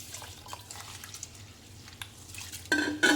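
Rice, urad dal and poha are washed in a bowl of water. Quiet sloshing and dripping grow into a louder, splashing swirl at the end, with no voices.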